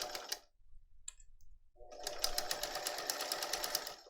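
A sewing machine runs while stitching a messenger bag, a short burst at the start, then a pause, then a longer steady rapid stitching run that carries on to the end, heard close up with no talk over it.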